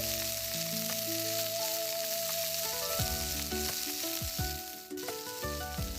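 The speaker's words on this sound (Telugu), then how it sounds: "ఇలా ఆనియన్స్ బ్రౌన్ కలర్ లో వచ్చాక అందులో పచ్చిరొయ్యలు వేసి కలపాలి." Raw prawns hit hot oil with browned onions and fry with a steady sizzle, mostly masked by tuneful background music that plays throughout.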